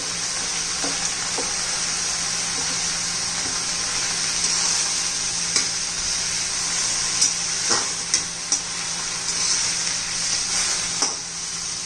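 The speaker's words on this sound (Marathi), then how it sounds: "एक 2-3 मिनिटं तरी आपण मेथी शिजवून घेऊया" Fenugreek leaves with sesame seeds frying in a pan for a methi-tomato chutney, a steady close sizzle with a few soft stirring clicks and scrapes toward the end, no voices.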